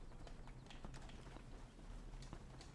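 Horse hooves in the video game Red Dead Redemption multiplayer, a quick rhythmic clip-clop of galloping under a constant low background, fairly faint and close.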